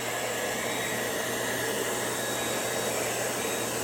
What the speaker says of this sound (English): She's not even bothered by the vacuum, the noise.